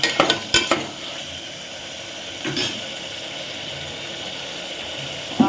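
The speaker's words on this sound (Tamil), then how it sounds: "தக்காளி பழத்தை போட்டுட்டு நல்லா மிக்ஸ் பண்ணிவிடுவோம்" Chopped tomatoes fry and sizzle in a pressure cooker for tomato rice, stirred with a few sharp scraping clicks at the start, then a steady close crackling hiss.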